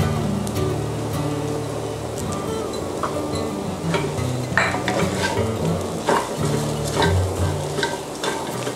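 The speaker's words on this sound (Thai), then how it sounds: "ผัดจนมันเข้ากันดีนะคะ" Fish and ground roasted peanut filling being stir-fried in a pan for steamed fish-filled dumplings, with steady sizzling and frying, spatula scraping and stirring, and occasional clinks of utensil against the pan, close and continuous.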